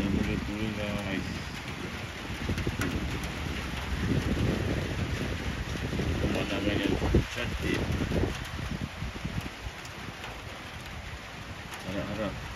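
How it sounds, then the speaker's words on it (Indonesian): Steady rain falls around a freshwater fishing pond at Sungai Kandis, Klang, producing a continuous dense hiss with light wind buffeting on the microphone while someone talks over it. "Hujan dah mula turun guys."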